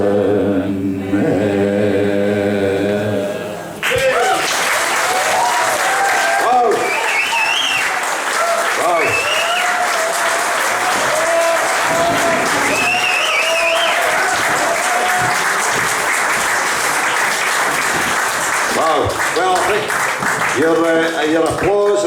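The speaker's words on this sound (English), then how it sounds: "Your applause and the shouts for the crowd say it all." Loud, sustained concert audience applause at a bowling club, dense clapping mixed with shouts and cheers from the crowd, following a sung anthem that ends abruptly before the clapping swells and carries on for about twenty seconds.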